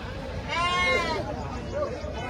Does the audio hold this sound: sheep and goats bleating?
yes